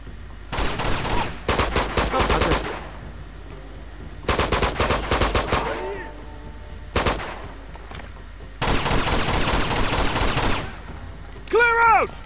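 Sniper and other gunfire in the video game Uncharted 2 crackles in loud, rapid bursts separated by short lulls, with a voice briefly heard between volleys.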